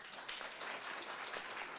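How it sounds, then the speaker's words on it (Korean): Moderate, even applause fills a forum hall as the audience welcomes a presenter at a data innovation conference, a short continuous patter of many hands. "정우영 본부장님을 박수로 맞이해 주시면 감사하겠습니다."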